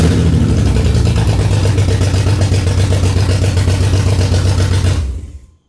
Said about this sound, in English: the engine starts perfectly, and it perfectly does not respond to throttle